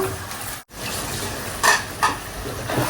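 A pan of onion, green chilli, okra and potato frying with a soft, steady sizzle, punctuated by a couple of metallic utensil clinks.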